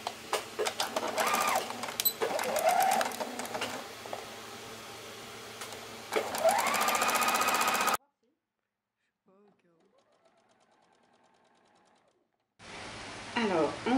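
A sewing machine stitches a seam on a blouse, its close, fast mechanical whir running steadily in two long bursts. A short silent gap separates them, and the machine starts again briefly at the end.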